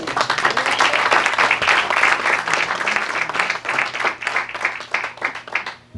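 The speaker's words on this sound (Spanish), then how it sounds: "Denle un aplauso al Señor." A church congregation claps at length after a call to applaud the Lord, a dense, steady patter of many hands that stays close and loud before thinning slightly at the end.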